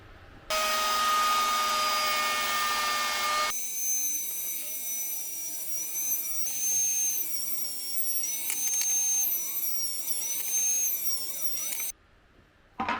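A trim router mounted in a hand-built router table screams at a steady high pitch, cutting a groove in scrap wood, with the tone shifting under load and stopping abruptly near the end.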